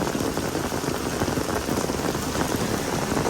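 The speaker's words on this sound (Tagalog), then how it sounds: "Grabe, malakas ang ulan." A downpour of heavy rain drums constantly on nearby surfaces, a thick, even roar of drops throughout with no speech.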